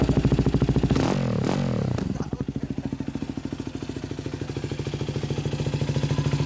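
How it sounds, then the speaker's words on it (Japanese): A Yamaha WR250X motard with an FMF Q4 slip-on exhaust idles with a loud, choppy note, blips sharply twice in quick succession, then settles back into a rapid, pulsing idle. "エンジンを聞かせて。"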